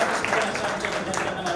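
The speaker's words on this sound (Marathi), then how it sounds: "त्यांच्यासाठी एकदा जोरदार टाळ्या वाजवा." An audience bursts into brief, steady applause for a police inspector at a guidance event for new police recruits, a dense patter of clapping lasting under two seconds.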